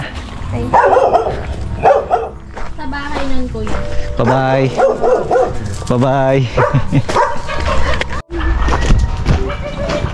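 A dog barks repeatedly at close range in loud, yappy bursts, sometimes whining, while people talk over it, ending with a short pause and more barking.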